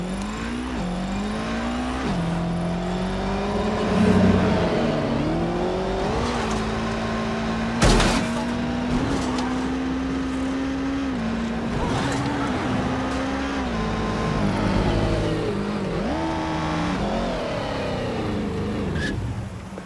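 A car accelerates at full throttle in the game Watch Dogs: Legion, its engine droning loud and close as the pitch climbs and drops through repeated gear shifts, with a sharp thump midway.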